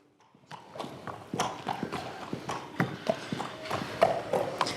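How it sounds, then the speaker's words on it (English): A young horse sired by Scirocco moves about a stable, its hooves clip-clopping in a steady, close series of sharp knocks on the floor for several seconds, with no talking. "Very nice young horse now by Scirocco."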